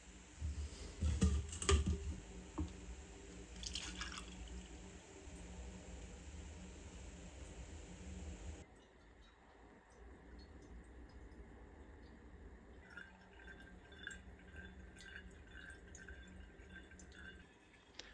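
Homemade Polish plum nalewka (śliwkówka) dripping through a strainer and coffee filters during final filtration: faint, irregular drips and soft trickles, with a louder, busier stretch of clatter at the start and a quiet background afterwards.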